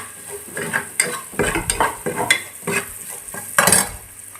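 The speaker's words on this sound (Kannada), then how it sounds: "ಈಗ ನಾನು ಹುರುಳಿಕಾಯಿ ಕ್ಯಾರೆಟ್ ಹಾಕ್ತಿದ್ದೀನಿ. ಅದನ್ನ ಒಂದು ನಿಮಿಷ 2 ನಿಮಿಷ ಫ್ರೈ ಮಾಡ್ಕೊಳ್ಳಿ." Green beans and carrots are stir-fried for paneer fried rice, with loud, close sizzling and repeated scraping strokes of a spatula against the pan in an irregular rhythm.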